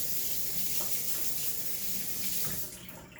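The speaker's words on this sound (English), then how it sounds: "rinse my hands." Steady rush of tap water running over hands at a kitchen sink while rinsing them after handling raw chicken, continuous and close, tapering off near the end.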